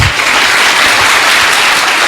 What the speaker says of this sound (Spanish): Aplauso pues para el hermano.